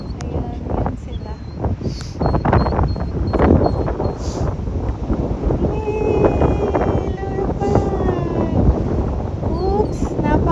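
Strong wind buffeting the microphone on a beach where people are parasailing, rough gusty roaring throughout, with voices talking over it.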